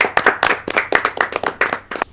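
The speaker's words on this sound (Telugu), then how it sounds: "మరి ఫ్రెండ్కి చప్పట్లు కొట్టి స్వాగతం పలుకుతాం మనం" Group of people clapping to welcome a friend, a quick burst of sharp claps with an irregular, lively rhythm, fairly close and loud with no talking.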